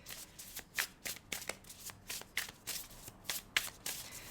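Tarot cards being shuffled by hand close up, about a dozen quick papery riffles and slaps in a steady rhythm, quiet and with no talking.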